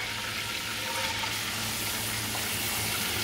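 Onions dropped into hot cooking oil in a pan, sizzling and frying with a continuous dense crackle at close range, steady and even throughout with no talk.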